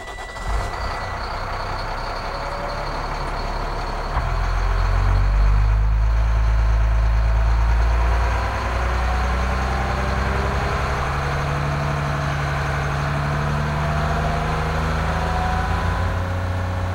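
A truck engine runs at roughly 1,500 to 2,000 RPM while driving a sand and salt spreader auger on its lowest setting during calibration, a steady, close, loud low drone that swells for a few seconds midway, with no talking.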